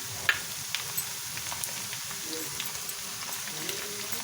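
Ginger-garlic paste frying in hot oil with browned onions for dal khichdi, a soft continuous crackling sizzle with small pops scattered throughout, fairly quiet and even.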